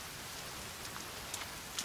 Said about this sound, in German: Mit dem Regen ist es natürlich jetzt irgendwie noch bescheuerter.